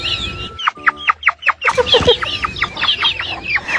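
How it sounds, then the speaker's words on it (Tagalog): High, rapid chirping calls of young chickens sound close and loud, a quick series of sharp cheeps repeated in a lively cluster outdoors. "Parang mga sisiw eh no."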